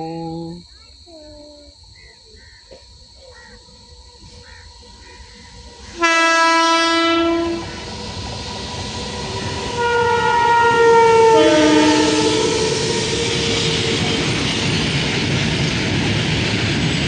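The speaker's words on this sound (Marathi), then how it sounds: "मालगाडी" A freight train passes close by, its loud horn sounding in long sustained blasts over the heavy rumble of rolling wagons, with quieter background sounds before the horn starts.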